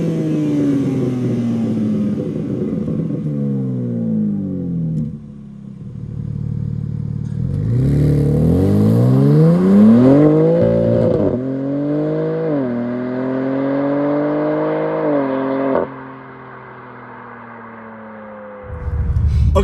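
A BMW G82 M4 Competition engine revs hard several times, each blip climbing and falling with rising harmonics, loud and close with no talking, before settling to a lower idle that swells again at the end.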